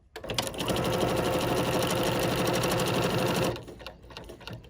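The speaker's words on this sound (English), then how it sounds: "I'm going to press my foot control and stitch one bobble" An embroidery sewing machine stitching a single bobble gives a loud, rapid, rhythmic mechanical chatter for about three seconds, then stops abruptly, leaving quiet room noise.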